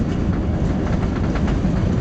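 Airliner touching down on the runway on landing approach at Ho Chi Minh City airport, a steady loud low rumble of wheels rolling, with rapid rattling clatter throughout and no voices.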